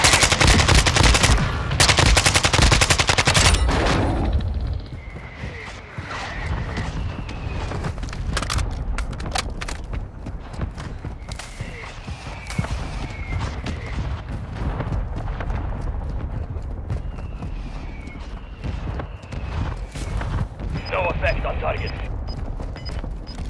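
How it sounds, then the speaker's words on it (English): Mortar strike explosions in the Warzone 2 video game: a loud burst of heavy blasts and rapid gunfire at the start, then distant booms and scattered shots under a game voice and radio chatter. "requesting fire mission. Target mark. Copy that. Mortar strike inbound now."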